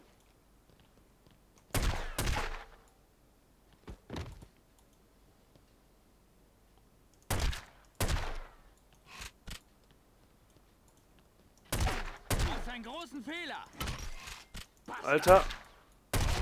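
Gunfire in The Godfather video game: a handful of sharp, separate shots spaced a few seconds apart, some doubled in quick pairs, mixed with someone talking over the game sounds.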